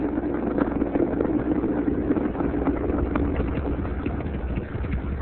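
The Space Shuttle Atlantis's main engines roar during launch in a steady, dense rumble that holds level and fills the whole stretch without a break, as if heard through a broadcast feed.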